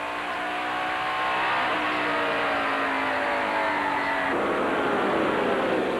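Late model race car in the 1997 USAR Hooters Cup Series at USA International, heard from inside the car: a loud, droning engine whose pitch climbs and sags as the driver works on and off the accelerator, then drops sharply when he lifts, with no talking.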